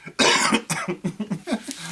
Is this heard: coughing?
yes